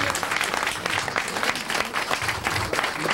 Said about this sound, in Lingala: nous allons encore applaudir très fort pour le Paris-Bercy qui sera plein